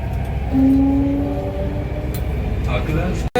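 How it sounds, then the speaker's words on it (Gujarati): Steady rumble of a moving Delhi Metro train between Lal Qila and New Delhi, with a faint tonal whine, voices murmuring faintly in the carriage. "અમે મેટ્રોમાં અત્યારે જઈએ છીએ લાલ કિલ્લાથી નવી દિલ્હી"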